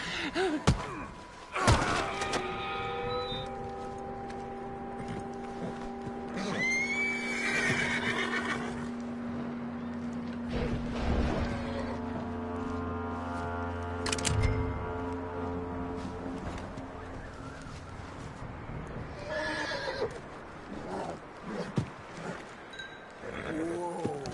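Horse neighing and hooves in the video game Red Dead Redemption 2, with several loud whinnies, thuds and clip-clop steps among game sounds and brief speech.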